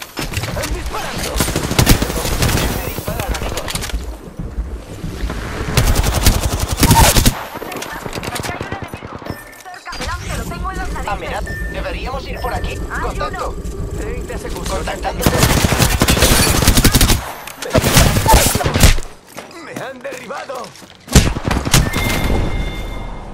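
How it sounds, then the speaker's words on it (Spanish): In Apex Legends, bursts of automatic gunfire and heavy shots come in loud, repeated volleys separated by short gaps, with voices heard between them. "¡Están disparando!"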